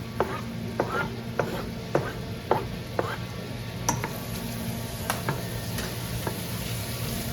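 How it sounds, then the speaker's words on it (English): Ingredients sautéing quietly in a pan for a curry, a soft steady sizzle with a few sharp taps and scrapes of a utensil stirring at irregular intervals, no voices. "So I'm gonna saute this for a few minutes"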